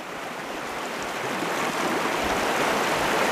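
Fast-flowing river water rushing steadily, a broad continuous hiss and roar that swells slightly louder toward the end, with no voices.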